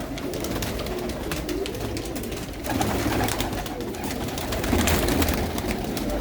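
Pigeons coo in a large loft, a dense chorus of overlapping low, throaty calls rolling on continuously from many birds nearby.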